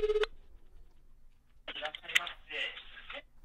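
A phone dials a call to a one-click fraud company: a single short tone, a pause, then a cluster of quick dialing beeps and tones under faint background talk.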